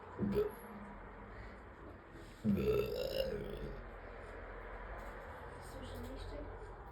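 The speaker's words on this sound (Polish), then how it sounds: "Potrafi bekać ile chce." Two loud burps close to the microphone, the first short and the second longer and drawn out a couple of seconds later, followed by quieter background noise.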